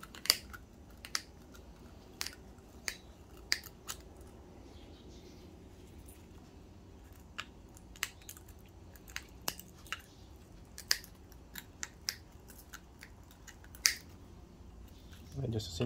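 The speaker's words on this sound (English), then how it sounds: "I'll just take a nice sharp pair of cutters and just cut up the middle of" Sharp wire cutters snip through strands of scrap wire in a series of crisp, separate clicks spaced irregularly over a quiet background, close and fairly faint.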